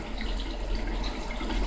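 Steady water rushes through plumbing as an electric water heater tank fills, a continuous moderate hiss without pauses or voices.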